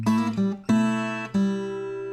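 A fingerstyle blues guitar vamp plays a triplet bass line, three ringing plucked attacks that sustain clearly and alone at a moderate level.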